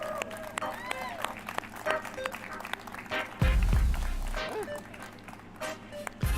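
Live crowd at the EA Play 2019 stage show claps and cheers as a presenter is welcomed on stage, a dense wash of applause swelling louder midway, with talk over it.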